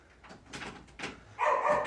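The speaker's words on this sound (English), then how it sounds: "Dogs barking and everything." Dogs bark indoors, sounding faint and muffled at first and then growing louder in a short whining burst near the end.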